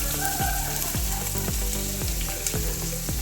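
Chopped large onion sizzling in a hot pan for chicken mandi, a steady bright frying hiss with repeated soft clinks of stirring, close and loud with no talking.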